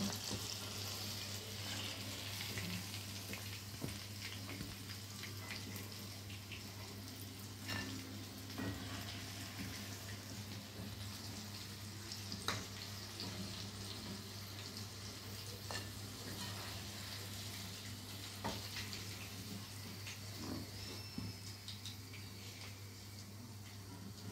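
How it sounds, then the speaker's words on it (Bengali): Chicken popcorn frying in hot oil, giving a steady close sizzle with crackling pops and an occasional stir throughout, with no talking. "আমার চিকেন ঠিক ভাজা হয়ে গেছে মানে পপকর্নগুলো ভাজা হয়ে গেছে"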